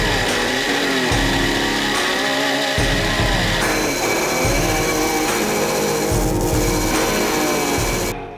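Belt grinder working the front spacer of a 23-inch mosaic Damascus Bowie knife, a loud continuous whine with rhythmic dips and surges as the steel is pressed and lifted repeatedly.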